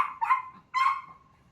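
An outdoor dog kept outside a house gives two short, fairly faint barks about half a second apart, each trailing into a whine, with quiet background hiss and no talking.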